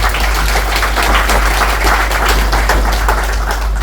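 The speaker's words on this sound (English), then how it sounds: "Please give me a big round of applause." A crowd at a 65th birthday celebration gives loud, sustained applause: dense, continuous clapping with no pauses throughout.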